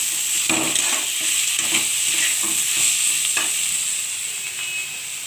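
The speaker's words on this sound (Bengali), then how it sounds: "চর্বিটা ভালো করে কষিয়ে নেব মশলাটার সঙ্গে।" Mutton fat is stir-fried with spices for a prawn and mutton-fat khichuri, a loud, bright continuous sizzle with scraping stirs of the spatula, close and without speech.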